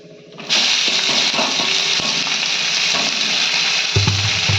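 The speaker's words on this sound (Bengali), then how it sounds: "কপির ডাঁটাগুলো দিয়ে ভালো করে ধুয়ে একটু জল ছড়িয়ে নিয়েছি, দিয়ে একটু নাড়াচাড়া করে" Washed, water-sprinkled cauliflower stalks hit hot oil in a pan and burst into a loud, steady sizzle, with a few scraping stirs and a low thud near the end.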